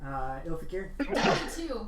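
A single sudden sneeze bursts out near the end, right after a person speaks a few words at a tabletop game session.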